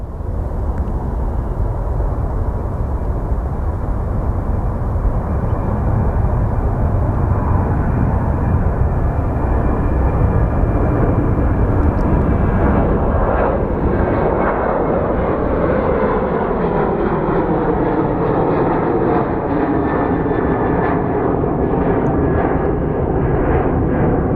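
A Southwest Boeing 737 roars loud and close at Phoenix Sky Harbor, a sustained jet engine rumble that shifts in tone as it passes.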